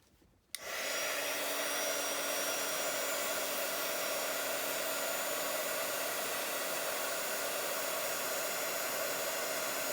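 A heat embossing tool switches on with a sudden onset and then blows hot air in a loud, steady, hissing whoosh for several seconds, close to the listener, with no talking.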